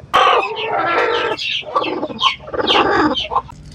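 Native country chickens and a rooster on a farm near a river barrage, with loud, close clucking and a crowing call broken into several strong bursts, with no voices.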